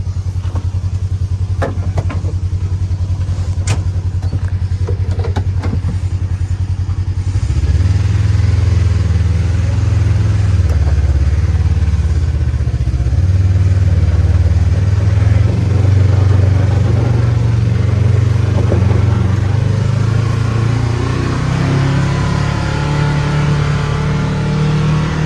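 A Kawasaki KRX side-by-side drives up a road, its engine droning loud and close with rising and falling revs as it pulls away over a long steady run.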